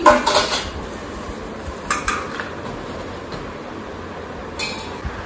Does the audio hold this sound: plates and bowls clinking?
yes